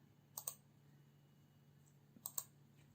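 Two quick, faint computer mouse double-clicks, spaced about two seconds apart, over a quiet background hum.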